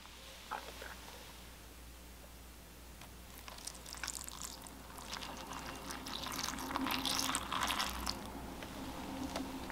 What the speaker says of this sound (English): Let's pour some milk in there and wet it.